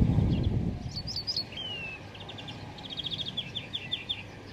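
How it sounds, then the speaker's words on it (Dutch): Small birds chirp and trill in short repeated phrases, fairly faint and distant, outdoors by a boat mooring at Ter Oele in Friesland countryside, with a farmer mowing in the distance, a low rumble at the start and a soft ambient background. "Hoor die vogeltjes."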